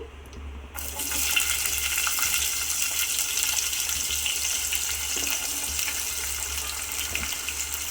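Chopped onion hits hot oil in a pan for a drumstick and tomato curry, setting off a sudden loud, steady sizzle that hisses continuously close up with no talking.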